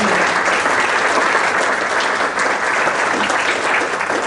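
Audience applause fills a roundtable discussion on identity theft led by the state Attorney General, a dense, steady sustained clapping that holds at a constant loud level throughout.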